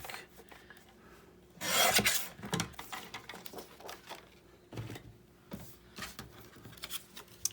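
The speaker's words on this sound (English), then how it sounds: "let's cut a pocket" Scissors cutting a paper pocket from leftover cardstock scraps, with a loud rasping snip followed by softer, irregular cuts and small handling rustles, close and without talk.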